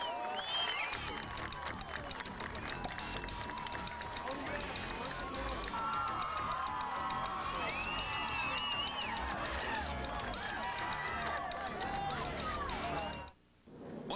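A dockside crowd at a 1990 offshore powerboat race victory celebration makes a steady hubbub of cheering and clapping, with a narrator's voice over the noise.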